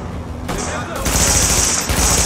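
Automatic gunfire in the video game The Division, dense bursts of rapid shots with a harsh continuous crackle, loud and close, starting and stopping in sustained volleys.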